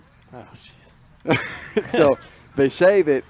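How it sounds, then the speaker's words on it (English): A cricket chirps outdoors at a boys' high school soccer game, its thin, steady trill pulsing faintly in the background while people talk over it. "You can hear the cricket chirping."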